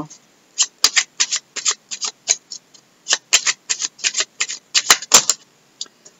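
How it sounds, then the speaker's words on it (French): Deity oracle cards shuffled and drawn by hand in a series of crisp riffling and flicking bursts with short pauses between them, close and clear, with no talking over them. "je vais tirer une carte pour un dernier petit message"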